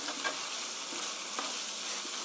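Onions sizzle and hiss while being stir-fried in a pan for a chicken rice bowl, a steady bright frying noise broken by a few soft clicks of stirring.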